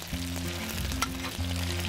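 Giant grouper head and belly pan-frying in a wok or pan give a steady, close sizzle throughout, over a low hum, with no voices.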